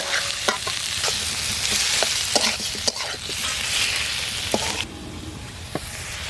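Tomatoes frying with browned onions in a pan, a steady loud sizzle with scattered scraping and stirring knocks from a spatula close by, the hiss dropping slightly toward the end.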